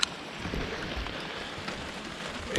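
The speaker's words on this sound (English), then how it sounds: "it's raining pretty hard right now" Heavy rain pours down outdoors, a dense, steady hiss of drops hitting surfaces close by, with a couple of brief knocks at the start and end and no voices.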